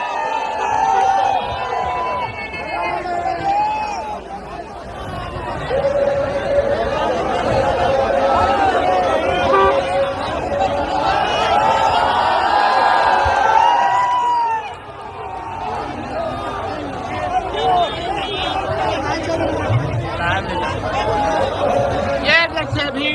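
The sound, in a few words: large crowd gathered in Bengal to see a leader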